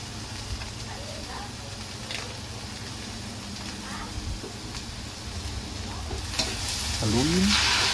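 Tofu sisig with mayonnaise being stirred in a frying pan, a steady close sizzle with scraping stir strokes that grow louder toward the end.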